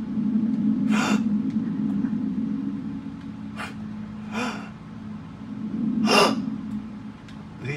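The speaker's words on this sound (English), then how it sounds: "Gasps are genuine, I'm not trying to be funny." A person gasping while playing The Last of Us Part II, several sharp breathy intakes of breath spaced irregularly over a steady low background hum, near and without words.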